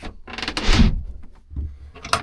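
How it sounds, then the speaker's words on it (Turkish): Bed extension sliding out inside the cabin of a Quicksilver 905 boat: a close wooden scraping slide with a thump midway, then a second shorter slide at the end, no talk. "Bunu şöyle birazcık kaydırıp yatağa da uzatabiliyorsunuz."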